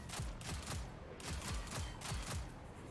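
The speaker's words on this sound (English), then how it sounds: "This feels like an auto rifle. Very overpowered auto rifle." Rapid bursts of automatic rifle fire from a video game auto rifle, several quick strings of shots with short gaps, loud and close, with no talking over them.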